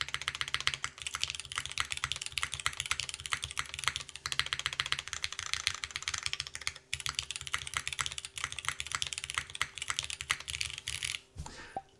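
Keys clack rapidly and continuously on a Kohaku mechanical keyboard build, close and fairly quiet, with dense typing that stops abruptly near the end.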